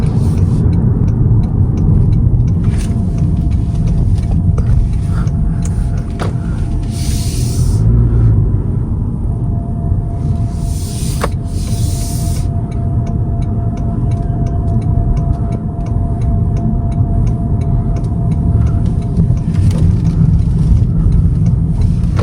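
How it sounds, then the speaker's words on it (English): Interior of a 2025 Toyota Camry XSE driving at night, a loud steady low rumble of road and engine noise that continues throughout with little change. "It was a blast driving this 2025 Toyota Camry XSE model"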